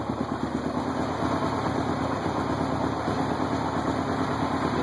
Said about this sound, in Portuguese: eu vou ligar agora a ventoinha